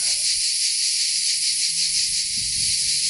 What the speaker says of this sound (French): je ne savais pas que les cigales faisaient autant de bruit